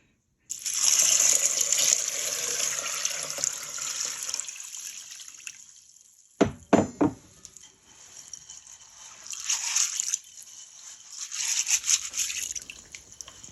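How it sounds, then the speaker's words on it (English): Running water pours over beans in a pot or bowl, a steady close rush with a burst of clattering as the beans are stirred by hand, then more splashing rinses. "So first I'll wash the beans and boil it till it becomes very soft."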